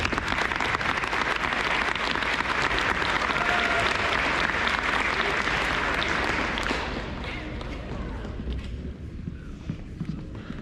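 Sustained applause fills a Veterans Day ceremony hall as the audience welcomes a veteran speaker, a steady dense clatter of clapping that holds loud for about seven seconds and then thins and tapers.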